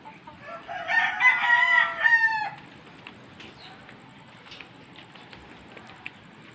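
A Rhode Island rooster crows once, loud and near, a drawn-out call over about two seconds, followed by quieter clucking and faint farmyard patter.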